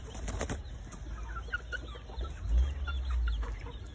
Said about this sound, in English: Both of these guys are roosters.